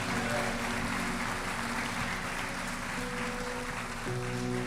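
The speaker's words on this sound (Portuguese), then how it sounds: "Aplauda Jesus, querido." A church congregation applauds at a water baptism service, a loud sustained burst of many clapping hands with a steady organ or keyboard chord humming underneath.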